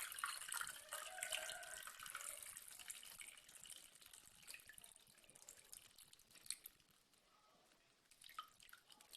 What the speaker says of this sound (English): I'm going to drain the water from the potatoes